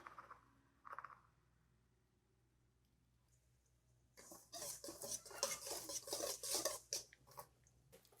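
Dry gingerbread cookie ingredients, salt and spices among them, are stirred together in a bowl, giving quick scraping clinks of a utensil against the bowl after a quiet start, close and lively.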